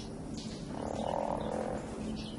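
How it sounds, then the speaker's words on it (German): Frogs croak in the video game Antichamber, a dense continuous chorus of low raspy croaks, fairly faint and steady with no voices. "Jetzt kommen die Frösche."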